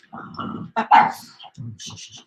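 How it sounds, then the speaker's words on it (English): Grumpy dog wanting to go out for a walk, grumbling and whining up close in a few short uneven bursts, with a person talking nearby. "I've got a grumpy dog that wants to go out for a walk"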